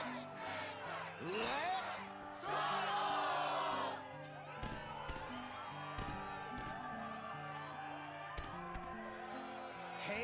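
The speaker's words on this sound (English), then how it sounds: "the crowd is fired up" Crowd cheering fills the Struggle arena in Kingdom Hearts 2, a loud surge of whoops and roars building to a peak before settling into a steady background murmur, with an announcer's voice speaking over it.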